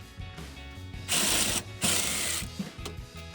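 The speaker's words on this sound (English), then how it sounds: "Right, electrical ratchet." Electric ratchet spinning a 15 mm socket on the upper control arm suspension of a 2009-2020 Ford F-150, two loud bursts of whirring close by, each roughly half a second, with a short pause between.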